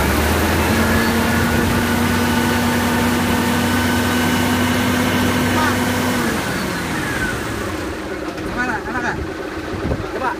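A car engine with Pressolind fuel additive idles loudly, then revs as a steady whine climbs in pitch and falls off, close by, with people talking over it.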